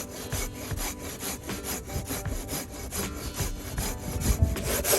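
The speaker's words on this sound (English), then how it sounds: "Now I'm just gonna buck this up into about 6-foot sections and take it home" Hand saw bucking an ironwood log into sections outdoors, with steady back-and-forth strokes rasping continuously and close, each pass a rough grinding rub with no voices.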